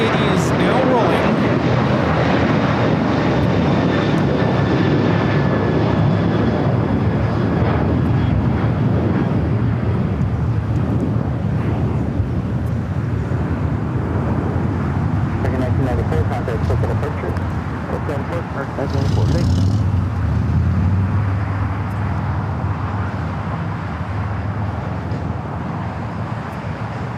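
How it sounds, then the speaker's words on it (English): An Asiana Airlines Airbus A380 on Flight 201 to Seoul takes off from LAX with a loud, sustained jet roar that holds steady and then slowly eases, with wind buffeting the microphone. "This is Asiana Airlines Flight 201 taking off to Seoul on the A380."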